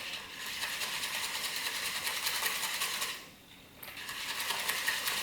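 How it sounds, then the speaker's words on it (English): A lime and lemon butter mixture being whisked in a bowl: a fast, even, rhythmic clicking and scraping that pauses briefly for about half a second before resuming. "So I'm just going to whisk this up for a second."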